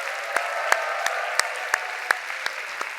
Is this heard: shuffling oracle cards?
no